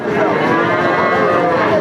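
Close, loud mooing from a Sindhi bull calf at a cattle market, one sustained bellow lasting the whole moment with the market's background chatter beneath it.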